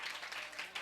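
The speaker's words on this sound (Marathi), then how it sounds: "टाळ्या वाजवा, टाळ्या वाजवा" A congregation claps together in a brief, faint burst of steady applause, heard from some distance.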